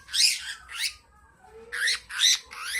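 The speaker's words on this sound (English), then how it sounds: "So here I have a male budgie" A male budgie with an overgrown lower beak gives a run of loud, harsh squawks close by, five bursts in two pairs separated by a short quiet gap.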